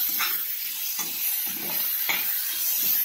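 Onion, cashews and tomato fry with garam masala in a wok, giving a steady sizzle broken by repeated scraping strokes of a spatula stirring the pan. The sound is close and loud, with no talk.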